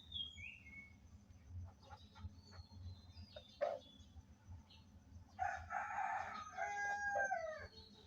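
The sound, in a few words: rooster crowing among chickens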